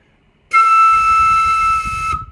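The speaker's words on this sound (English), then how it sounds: "Or if you do really fast air, it'll sound like this." A high, breathy note from a flute headjoint alone, blown with fast, forceful air, sounds abruptly, holds for about a second and a half, then cuts off.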